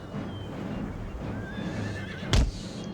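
Cavalry horses whinny in an Empire Total War battle. One loud neigh rises over a low rumble of battle ambience and faint hoof clip-clop, with a sharp close impact near the end.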